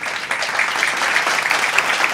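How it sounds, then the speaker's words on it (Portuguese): Warm applause from the audience at a congress opening session, a steady dense patter of many hands clapping that holds evenly throughout at moderate loudness. "também com um caloroso aplauso"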